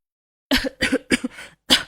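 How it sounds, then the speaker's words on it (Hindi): A short burst of four or five sharp coughs in quick succession, close and fairly loud, after a moment of silence. "उसे तेज तेज खांसी होनी शुरू हो जाती है"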